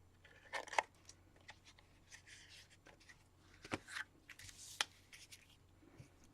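Scissors cutting through a cardboard toilet paper roll for a craft, quiet irregular snips and crisp crunches with papery rustling and handling noises between cuts, close and soft.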